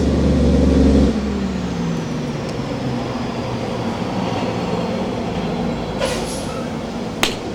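Heavy highway traffic with trucks rolling past, a loud close rumble that fades after the first second into a steady distant road drone with a few faint clicks.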